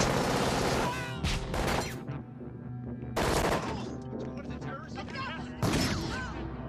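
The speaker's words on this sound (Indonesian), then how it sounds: "Para polisi sempat membalas tembakan" Gunfire erupts in a Terminator film action scene as police shoot back at the machine, loud bursts of shots and impacts arriving in three heavy waves over music and effects.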